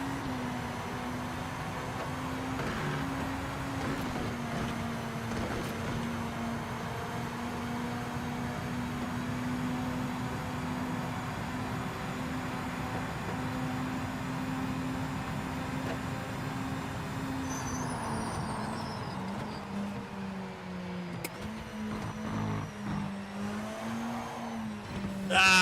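Race car engine from Project Motor Racing during a qualifying lap, a steady loud drone with shifting pitch as it accelerates and shifts gears, brief tire squeal, and occasional faint talk underneath.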